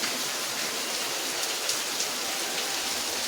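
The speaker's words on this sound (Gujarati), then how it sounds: "વરસાદ આવ્યો ધોધમાર" Heavy monsoon rain pours down at an outdoor construction site, a dense, steady hiss of drops drumming on surfaces with no break and no voices.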